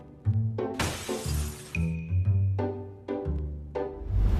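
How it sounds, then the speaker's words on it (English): A glass door at a train station shatters in one loud, bright crash with lingering tinkling fragments, set within a rhythmic musical backing track. "security at a train station found a glass door was broken"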